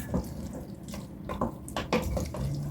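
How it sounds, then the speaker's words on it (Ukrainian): Water runs and splashes steadily into a pot over a stove during home cooking of Transcarpathian bean soup with smoked meat, a continuous faint pouring with light clinks, no talk. "і залию води."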